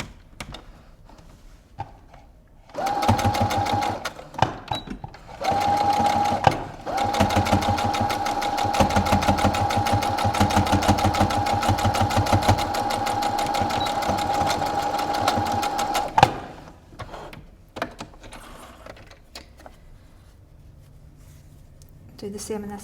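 A domestic sewing machine stitches back and forth over face mask elastic in bursts, a loud rapid mechanical whirring running for several seconds at a time with short pauses between runs.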